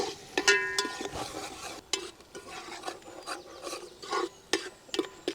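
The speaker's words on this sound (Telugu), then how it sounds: "ఈ మొత్తాన్ని ఒక మూడు నిమిషాలు ఇలా బాగా కలుపుకుందాం" A spoon scrapes and stirs spice paste and salt in a pan for egg biryani, with a faint sizzle underneath. The stirring strokes come up close and irregular, with no one talking.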